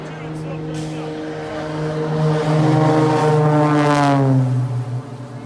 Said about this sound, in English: This plane flying sideways.